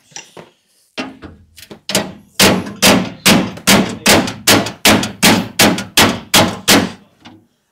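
A steel panel hammer strikes the body panel of a classic Lancia Sports Coupe during dent pulling. A few tentative taps give way to a steady series of about a dozen loud, ringing clangs at an even rhythm, with no talking.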